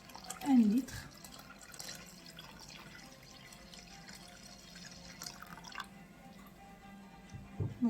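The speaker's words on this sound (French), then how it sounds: "Là, je mets l'eau, vous voyez, comme ça, comme vous voyez, 1 litre." Water is poured into a pot of Moroccan harira soup, a full litre going in. A soft, quiet trickle and a few drips come with faint kitchen noise, and a voice speaks in the background.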